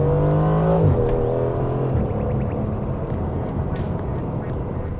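An Aston Martin Vantage Roadster driving at speed with the top down, engine loud and close, pitch climbing then dropping sharply at a gear change, followed by a steady rumbling drone.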